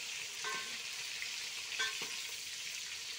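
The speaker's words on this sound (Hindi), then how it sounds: "ये चम्मच से मैं चाल देती हूँ ताकि ये अच्छे से फ्राई हो जाए" Stuffed eggplant with masala fries in a pot, a steady close sizzle with a metal spoon stirring and clinking against the pot twice.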